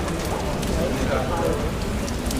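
Rain falling outside St. Peter's Basilica in Vatican City, a dense steady patter on surfaces with crowd murmur and nearby voices mixed underneath.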